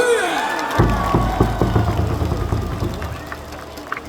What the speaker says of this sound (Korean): 다시 한번 우리 선수들에게 박수 한번